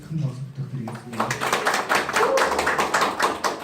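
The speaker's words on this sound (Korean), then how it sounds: "큰 박수 부탁드리겠습니다" Applause at a farmers' union press conference: a voice speaks briefly, then a dense, steady burst of clapping from a nearby crowd fills the rest.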